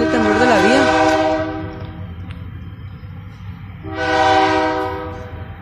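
KCS freight trains pass close by, with two long blasts of a multi-tone air horn over a constant rolling rumble of rail cars and wheels on track.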